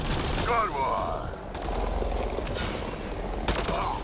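Gunfire in the sci-fi video game Mass Effect: Andromeda, with rapid bursts of shots and clattering impacts spread across a busy battle mix, moderately loud against continuous background noise, with some speech.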